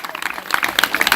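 An audience at a live Ramayana katha gathering of a Hari kirtan group in a village claps loudly and densely in a continuous burst of close applause, with a voice heard over it.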